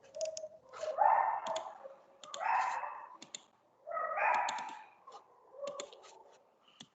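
Someone types on a computer keyboard over an open online meeting microphone, sharp scattered clicks tapping throughout, mixed with several faint bursts of dog barking in the background.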